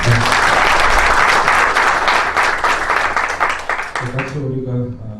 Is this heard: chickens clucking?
no